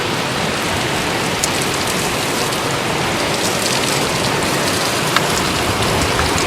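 Heavy rain pours down steadily outside Brushy Mountain State Penitentiary, a loud, dense wash of hiss with no letup and only a faint isolated tap or two.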